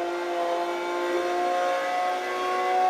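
A car engine drones in a racing video game played with a Thrustmaster TMX Pro steering wheel, a steady loud tonal hum that rises slightly in pitch, with no voices.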